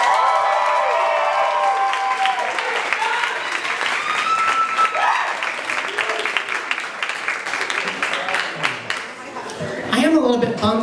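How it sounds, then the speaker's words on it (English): A crowd at a drag show applauds a performer named Sophia with sustained clapping, scattered cheers and laughter, while a host talks over the noise. "Give a round of applause for Sophia."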